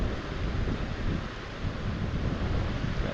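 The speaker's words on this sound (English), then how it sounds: "Got a slight wind." A slight wind blowing across a river during trout fishing on the Blue River, a steady low rushing buffet on the microphone, continuous and fairly close, with no voices.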